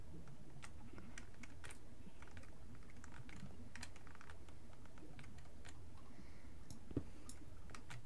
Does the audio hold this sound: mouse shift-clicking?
yes